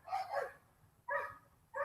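Big dogs bark three times outdoors, two quick woofs close together and then a third after a pause, sounding faint and somewhat distant.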